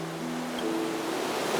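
Vast ocean in the Honkai: Star Rail game, a steady broad wash of surf swelling slightly over a low sustained tone, with no voices.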